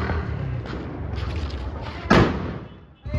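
One sharp, loud firecracker bang bursts out of a rumbling background, followed by a brief fading crackle; a fainter pop comes near the end.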